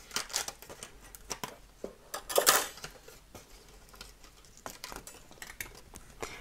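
Paper butterfly card stock is cranked through a hand-operated die-cutting machine, giving irregular clicks, ticks and scraping clatters with one sharper rasping burst partway through, all close and moderately quiet.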